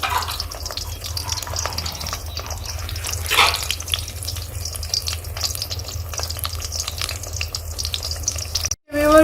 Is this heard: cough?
no